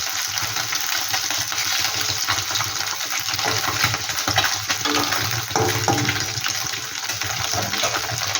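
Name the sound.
mourola fish frying in hot oil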